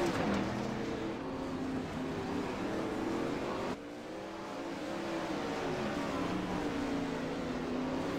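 410 winged sprint cars race on the dirt oval at Limaland, engines roaring and revving continuously at close range, with pitch swells and a brief dip midway as cars slide through the turns.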